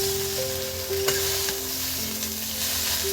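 Chow mein noodles fry in a full wok with green chilli and ginger, a steady dense sizzle with occasional tossing clinks and a faint high tone running underneath.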